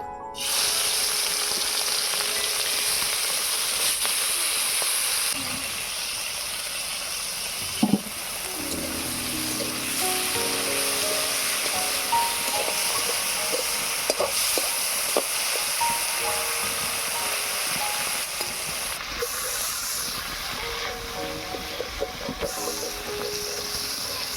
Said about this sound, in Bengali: চিংড়ি মাছগুলোতে নুন হলুদ মাখানো হয়ে গিয়েছে, এবার এগুলোকে ভেজে নেব